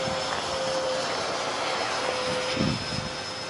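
An RC Bat Wing model jet flies in to land, producing a steady, moderately loud turbine whine and rushing roar that holds fairly constant throughout, heard outdoors without speech.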